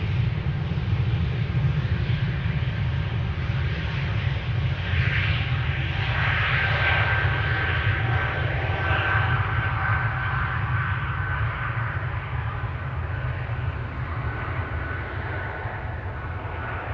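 An Air Baltic jet airliner throttles up for takeoff at Amsterdam Schiphol, a sustained loud engine roar with a rising high-pitched whine, heard from a distance and held steady throughout with no talking.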